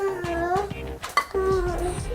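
A spoon scraping chocolate inside a container, several short clinks and scrapes up close, with a voice talking over them.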